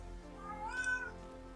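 A cat gives a single clear meow, rising and then falling, fairly quiet and close, over a faint steady background hum and with no talking.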